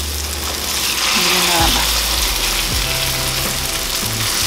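Homemade hamburger patties fry in a skillet with a loud, dense, continuous sizzle close by, while a person talks over it.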